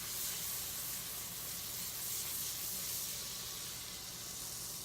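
A tablespoon of butter sizzles in a hot pan before the apples for a grilled pork chop go in, a steady, even hiss that holds without a break and with no talk over it.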